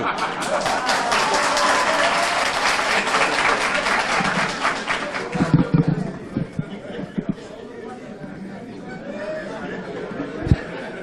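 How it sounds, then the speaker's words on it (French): Audience applause at a French-language political speech: dense, sustained clapping fills the first half, then thins to a few scattered claps as someone speaks over the hall. "je vais vous demander de ne pas applaudir"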